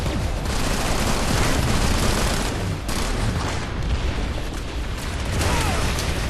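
Grenade explosions going off in the online shooter Planetside 2 on PS4, a dense, continuous barrage of loud overlapping blasts and crackling bursts that fills the whole stretch with no talking.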